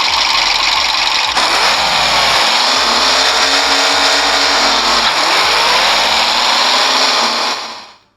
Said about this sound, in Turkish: Bu arabanın da sesi bu şekilde arkadaşlar.